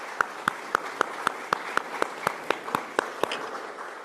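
Audience applauds a newly elected minister at the opening of a forum on memory, truth and justice, sharp, evenly spaced claps about four per second, steady and fairly close, fading slightly at the end.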